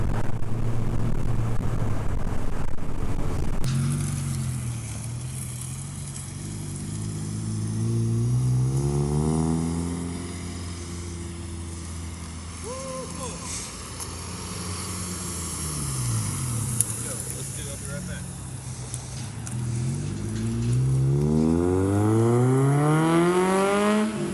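A Honda Fit GD3 hatchback's engine hums from inside the cabin while cruising in fourth gear, its pitch rising and falling through several smooth accelerations and easing-offs, with a steady road drone underneath.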